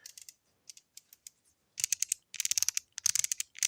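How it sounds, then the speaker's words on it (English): Tattoo machine depth adjustment twisted by hand, giving sparse light clicks at first, then rapid runs of crisp, close ratcheting clicks in quick bursts. "As you can hear, very nice clicking feedback."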